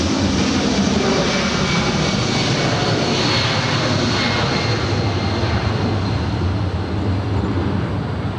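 A Delta Boeing 757-200 takes off at LAX, its jet engines a steady, loud broadband roar that holds at full power throughout with no voices.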